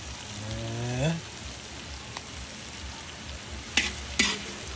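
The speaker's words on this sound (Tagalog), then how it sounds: "Lulutuin muna natin tong ground pork, guys." Ground pork frying in a pan gives a steady close sizzle throughout, with a few brief scraping stirs and clatters near the end.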